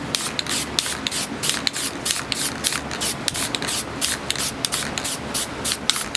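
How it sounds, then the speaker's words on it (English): Short bursts of hissing from a spray paint can of cheap Walmart brand blue paint, lightly misting a corner, repeated in quick rhythmic puffs, close and fairly loud. "lightly spray this corner"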